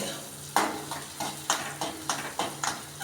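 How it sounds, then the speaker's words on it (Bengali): Onions sizzle in a frying pan while a spoon stirs them in a steady rhythm, each scrape adding a distinct scraping knock over the constant frying hiss. "যতক্ষণ না এই পেঁয়াজটা একটু লাল লাল করে ভাজা হবে ততক্ষণ আমি পর্যন্ত এটা নাড়তে থাকবো"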